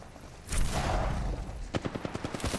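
Video game gunfire aimed at the player: a burst of heavy shots, then a rapid rattling string of automatic fire, fairly close and loud.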